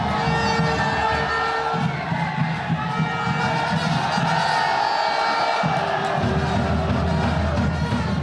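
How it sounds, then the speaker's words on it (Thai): Football supporters cheer and chant in a stadium during an SCG versus Buriram match, a continuous loud crowd roar with shouting that dips briefly and then swells again. "วันนี้กองเชียร์ของ SCT ก็มาลุ้นสนุกเหมือนกันนะครับ"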